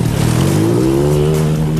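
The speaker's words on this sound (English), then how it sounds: "Gentlemen, start your engines." Midget race car engines at an indoor race on a soda-sprayed track, a loud sustained engine drone with rising pitch as the motors rev, close and continuous with no talk.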